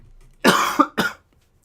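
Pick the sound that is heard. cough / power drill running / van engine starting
cough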